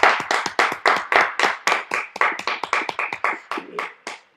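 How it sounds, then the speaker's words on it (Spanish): Studio audience applauding on a Chilean TV show, with crisp, rhythmic clapping that rises and falls in bursts at close range before tapering off. "Un aplauso para ti. ¡Bravo!"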